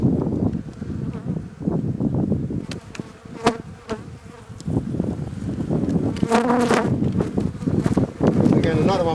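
Honeybees buzz around an open hive during a spring inspection, a continuous close insect drone with wind rumble, intermittent clicks and knocks of handled frames, and a person speaking at times.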